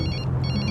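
A telephone rings with a steady electronic bell tone, loud and continuous throughout the short moment, with no voices over it.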